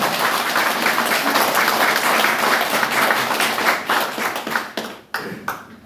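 An audience at a Korean political party meeting claps loudly and steadily, a dense wash of applause that thins into scattered individual claps near the end.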